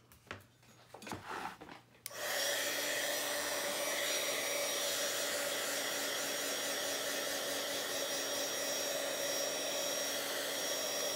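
A hair dryer dries a mixed media journal page: after a couple of seconds of faint handling noise it switches on abruptly and roars steadily, loud and close, with a constant whining whoosh until the end.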